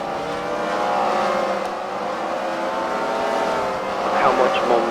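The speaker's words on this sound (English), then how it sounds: "Those checker cars just passed those traffic jammers like they were just sitting still there." Checker race cars in a CWRL fight night at the Freedom Factory roar past on the track, a sustained near engine drone swelling and tailing off, with a voice talking over it.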